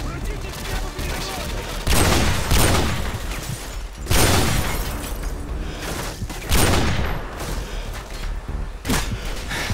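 Gunfire in Call of Duty Modern Warfare 2 co-op on the Estate spec ops mission, loud bursts of rapid shots and booming impacts arriving in repeated waves, with players talking between them.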